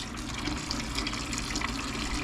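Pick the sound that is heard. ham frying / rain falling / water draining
water draining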